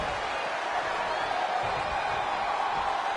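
Steady crowd roar from a wrestling arena in the WWE 2K20 video game, a continuous wash of cheering that holds at an even level throughout with no individual voices standing out.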